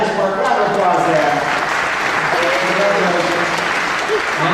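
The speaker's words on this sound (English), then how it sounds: "Round of applause there." Audience applause at a Honda ASIMO robot presentation at Georgia Tech, dense continuous clapping filling the hall, with a voice speaking faintly over it throughout.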